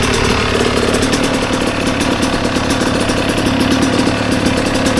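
A Kawasaki KX 112 two-stroke dirt bike idles close and loud after a kickstarter install, its engine beating in a fast, steady, rattling rhythm with no voices.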